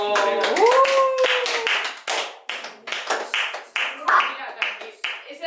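A quick run of hand claps, sharp and close, in an uneven rhythm after a brief voice exclamation at the start.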